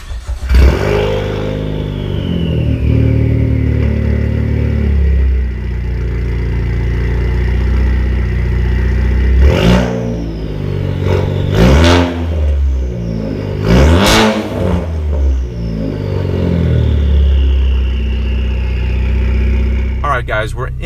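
A 350-horsepower 2016 Ford Focus ST, a modified hatchback, revs and accelerates on a drive. A steady engine drone rises into several loud, sweeping rev bursts with gear-change dips near the end.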